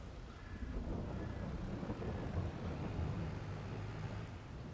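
Steady, dense video game rainfall hisses without a break, with a low rolling rumble of thunder underneath; no voices.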